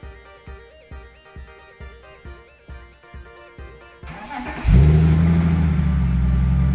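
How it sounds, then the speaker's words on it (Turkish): A keyless remote start on a car: a run of regular clicking or chiming pulses, then the engine cranks and catches with a loud rush and settles into a steady, rumbling idle nearby. "Şu an araç uzaktan çalıştı."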